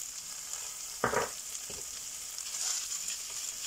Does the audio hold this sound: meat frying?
yes